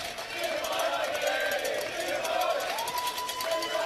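The Vikings, a cheering section of Norwegian fans, roar and cheer at the 2014 World Series of Poker main event final table in Las Vegas, a steady crowd swell heard under a commentator's voice.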